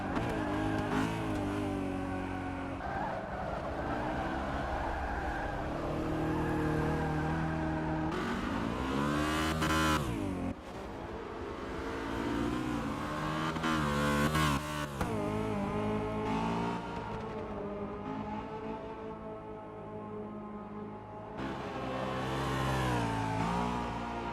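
V8 Supercars racing on a street circuit in Rio, their engines roaring continuously as cars rev hard and sweep past one after another, with pitch rising and falling through gear changes over the whole stretch.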